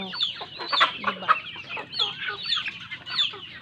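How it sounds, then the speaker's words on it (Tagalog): A flock of young chickens, bought as chicks and kept in a backyard coop, clucking and chirping busily and close by, with overlapping calls in an uneven, continuous chatter. "sisiw pa sila, sisiw. Mga sisiw."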